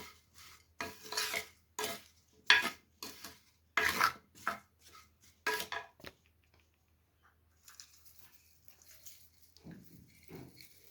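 Ground chili powder is stirred by hand into a homemade carrot pickle, giving a run of close, rough rubbing and scraping strokes in uneven bursts, followed by softer, quieter movements.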